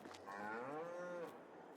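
A single cow moos in Farming Simulator 22 on a snowy farm, one drawn-out, fairly faint low call with no talk over it.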